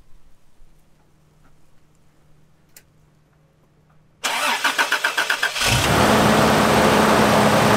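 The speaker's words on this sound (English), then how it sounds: "So the car started first go." A car engine fitted with a new battery cranks with a quick run of rhythmic pulses, then catches and settles into a loud, steady close-up idle after a quiet stretch of faint background noise.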